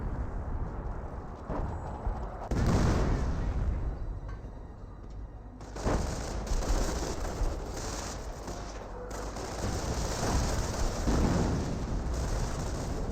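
Artillery barrage from a Hummel or Priest self-propelled gun in Company of Heroes, a dense, continuous roar of shell impacts and gunfire, loud and close, with repeated heavy bursts and a brief lull before the pounding resumes.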